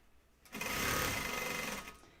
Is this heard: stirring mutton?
no